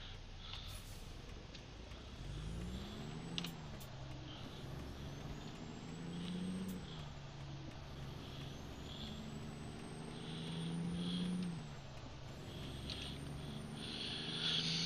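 A heavy truck with a heavy load in American Truck Simulator pulls away on an incline in low gear, its engine droning and rising and falling in pitch as it strains, with a hiss of air brakes early on, steady and close.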